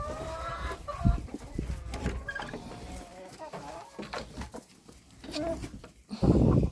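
Hens cluck and call busily around their feed in a farmyard, several birds overlapping at close range, with a burst of rustling near the end.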